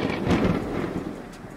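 A thunderstorm sound effect: a loud, deep rumble of thunder rolls over the steady hiss of falling rain, swelling early and then easing off in a short burst.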